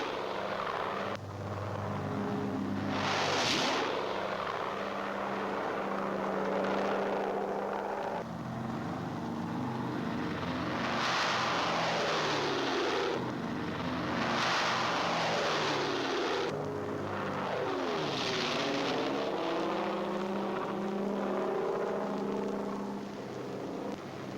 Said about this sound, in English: the first serials of C-47s follow on the invasion path